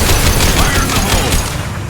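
A grenade goes off in Mass Effect 2, a loud, dense, rumbling blast with crackling debris that fills the whole short moment and slowly thins.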